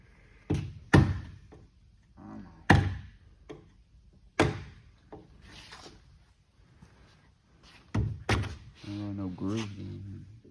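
A fiberglass part for a hot rod car is knocked loose from its mold with several sharp, separate thumps and taps spread out over time, and people talk quietly in between.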